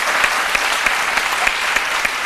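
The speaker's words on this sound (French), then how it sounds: "On peut l'applaudir très fort." A live studio audience applauds loudly and steadily, a dense wash of clapping with some sharper individual claps standing out, close and continuous for the whole stretch.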